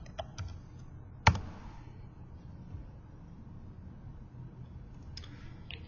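A few sparse keystrokes click on a computer keyboard as a number is typed in, each tap quiet and separate, with one sharper click standing out against a low, hushed room background.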